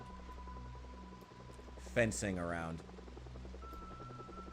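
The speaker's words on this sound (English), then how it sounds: "That's the helicopter." In Project Zomboid, a helicopter flies overhead with a low, steady, pulsing rotor drone under brief speech.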